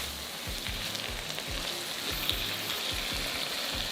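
Oyster, soy and fish sauce sizzling in a hot pan with steady frying crackle, punctuated by repeated low scraping knocks of a utensil stirring at a brisk rhythm.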